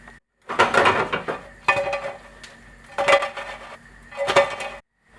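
Metallic clatter of a pan of frying chicken being shaken and tossed, three bursts of scraping and clinking separated by short pauses, close and fairly loud.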